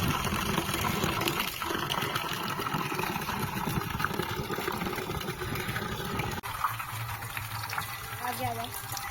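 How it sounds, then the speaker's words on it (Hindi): Steady rushing water pours continuously from a cow-shaped spout, a close, full gush that runs throughout with faint voices in the background. "गाय के मुंह से आ रहा है पानी।"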